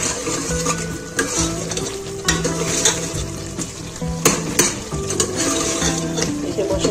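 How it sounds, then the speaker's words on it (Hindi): Garlic ginger paste fries in oil for a beef and chana dal curry, with a steady sizzle under repeated scraping and clinking of a metal spoon stirring against the pan. "हमने बहुत अच्छे से भुनाई करनी है ऑयल के साथ, और अभी चंद मैं इसमें लहसुन अदरक का पेस्ट भी शामिल करूँगी।"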